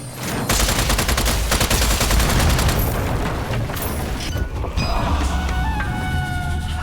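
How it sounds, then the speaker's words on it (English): Dense, continuous gunfire from the video game Strange Brigade, rapid overlapping shots and booming bursts packed tightly together at a loud, steady level. "Guess I'll just have to shoot them in the face."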